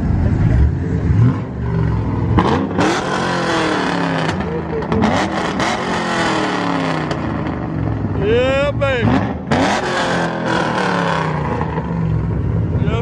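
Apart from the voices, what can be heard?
Dodge Charger Scat Pack engine revving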